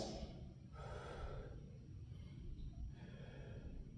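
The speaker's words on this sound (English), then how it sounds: "Catching our breath." Heavy breathing between boxing rounds of jab and cross drills: a few deep, noisy breaths in and out at close range, with no talking.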